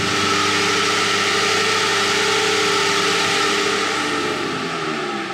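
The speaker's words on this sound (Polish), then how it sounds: "Większy, większy hałas słychać z rolek i z kół niż z wydechu, bo jak Marek tutaj hamuje" An eight-cylinder car running on a chassis dynamometer, a steady loud drone of engine and spinning rollers and wheels, with harmonic hum and broadband whir sustained throughout and easing slightly at the end.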